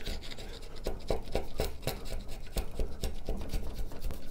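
Close, steady run of rasping strokes as a sharp chisel pares a groove in firewood stock while making a grooving plane, each cut a short scraping shave repeating in an uneven rhythm with no talk.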